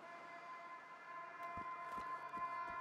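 Robot alarm siren in the video game Generation Zero sounds as a steady, faint electronic wail, with a few soft clicks and thumps near the end and no voices.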